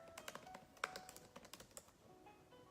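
Someone types on a computer keyboard in quick, irregular bursts of soft clicks, with one sharper keystroke. The typing is quiet and close, thinning out toward the end.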